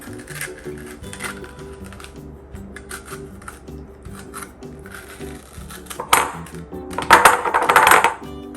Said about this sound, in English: now we're going to scrape the seeds out, and just take your spoon and run it around and cut into the flesh